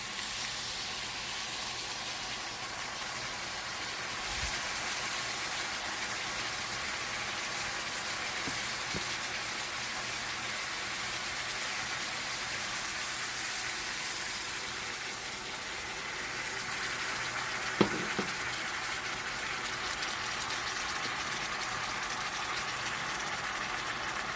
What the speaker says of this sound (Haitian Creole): Là, je vais ajouter une tasse d'eau.